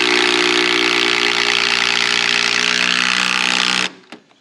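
A Bosch 18V cordless drill drives a screw with a loud, steady motor whine and grinding hum for nearly four seconds, then cuts out abruptly, leaving a few faint clicks.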